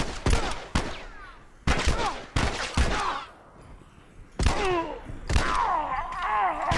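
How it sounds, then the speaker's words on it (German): Bursts of gunfire in The Last of Us crack out in irregular volleys, loud and close, with short pauses between clusters of shots. "die schießen auf uns, die schießen auf uns!"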